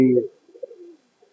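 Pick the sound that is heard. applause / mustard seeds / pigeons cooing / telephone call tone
pigeons cooing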